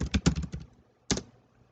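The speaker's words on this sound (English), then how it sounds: "See if I type in something. I'm typing." Typing on a computer keyboard, a quick burst of close, crisp key clicks followed by a brief pause and one more short cluster of keystrokes.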